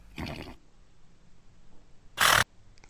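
A horse's neigh, a short loud burst near the end following a brief earlier cry, with quiet background between.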